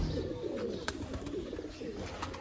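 Black-faced pigeons coo softly at moderate distance over a steady background hum, with a brief sharp knock partway through.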